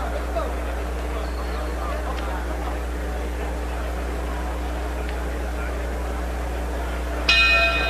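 A boxing ring bell rings briefly near the end, marking the start of round 3 in a 1997 professional bout, a bright metallic strike over a steady broadcast hum and a distant crowd murmur.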